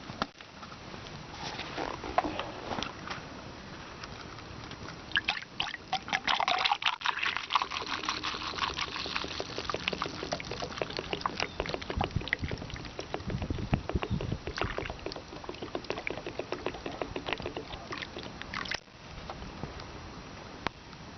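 Engine coolant gurgling and trickling as it drains into the cooling system of a Toyota Prius, a steady, close liquid burble with small bubbling pulses that continues throughout without speech.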